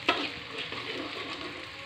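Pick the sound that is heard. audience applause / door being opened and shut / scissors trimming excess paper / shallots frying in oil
shallots frying in oil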